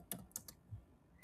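Quick, light keystrokes tap on a computer keyboard, a handful of soft clicks in an uneven burst, close but faint.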